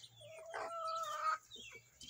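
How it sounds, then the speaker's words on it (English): Chickens cluck and trill in short, fairly faint bursts at close range, one brief call rising above the rest, with quiet gaps between and no talk. "Look at all these chickens."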